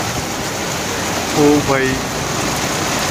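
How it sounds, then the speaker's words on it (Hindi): Heavy rain pouring steadily in a broad, dense hiss under a dark sky, continuous and close, with a short burst of a voice calling out partway through. "बारिश में भीग के मजा आ गया है।"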